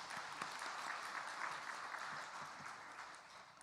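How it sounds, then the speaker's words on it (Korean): A church congregation applauds during a Sunday sermon, with sustained clapping from many hands that is soft and somewhat distant, holding steady for a few seconds before easing off. "하나님께 영광의 박수를 올려드립시다."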